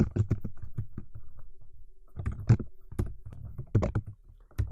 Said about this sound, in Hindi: अब इधर आके मैं नेम टाइप करता हूँ लाइक